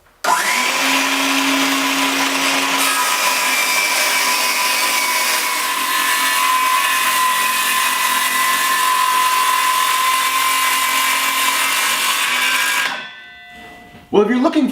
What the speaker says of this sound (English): I also am using this jig that is designed to make a clean cut with a circular saw